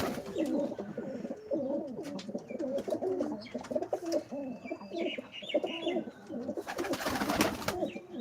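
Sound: pigeons

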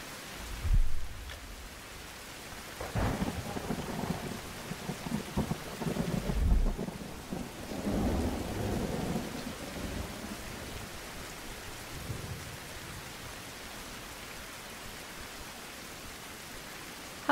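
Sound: rain and thunder in survival video game

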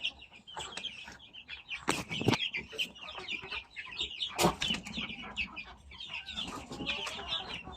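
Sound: free range chickens clucking in backyard

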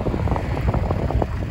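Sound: strong wind

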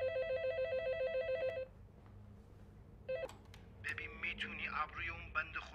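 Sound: telephone ringing

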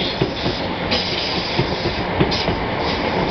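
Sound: London Overground class 317/315 train passing

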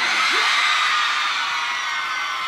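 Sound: concert crowd of women screaming

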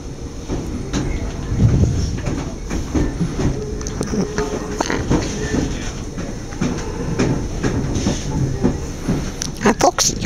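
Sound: train riding on rails

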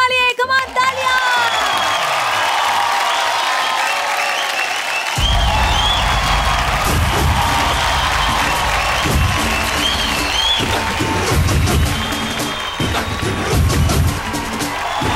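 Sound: audience applause and cheering at an award show

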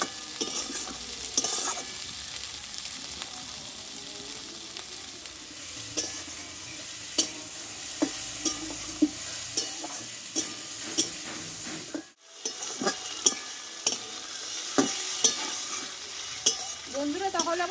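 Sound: eggplant frying in a pan

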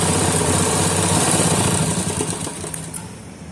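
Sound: sewing machine stitching a seam on a pajama pocket

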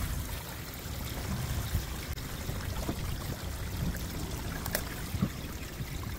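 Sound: water flushing through a clogged RV black tank sewer line

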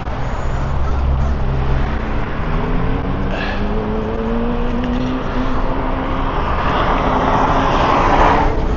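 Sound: cars driving on the highway to Tijuana

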